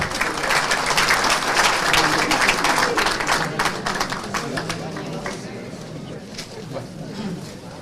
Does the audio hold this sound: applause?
yes